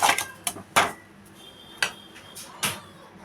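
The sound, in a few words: stirring grated carrot and sugar in a pan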